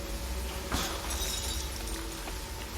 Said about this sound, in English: Smash some glass.